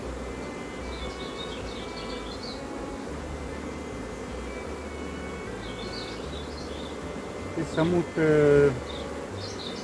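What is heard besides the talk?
honeybees buzzing at swarm hive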